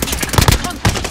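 Rapid gunfire in Call of Duty Warzone on Rebirth Island, a few quick close shots in a short burst mixed with a voice talking.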